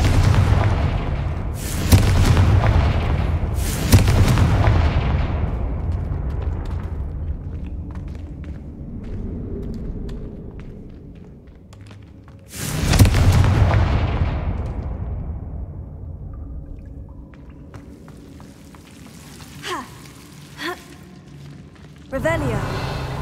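Confringo fire spell blasts in Hogwarts Legacy, heavy booming impacts at the start and another around mid-clip, each trailing into rumbling decay, with lighter clatters and footsteps between.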